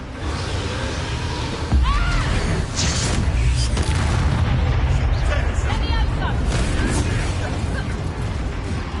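The Confringo fire spell blasts in Hogwarts Legacy, loud bursts and booming explosions amid combat effects, with a heavier hit partway through, mixed with shouted spell names and dialogue.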